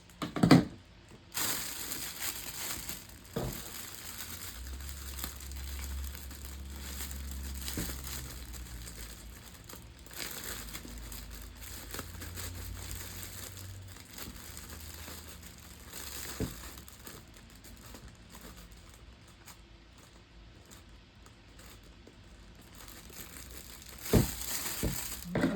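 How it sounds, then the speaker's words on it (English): A plastic bag being folded and closed up during coffee mug gift wrapping, with intermittent crinkling and rustling bursts, close and moderately loud, with brief louder crackles near the start and end. "close this bag up"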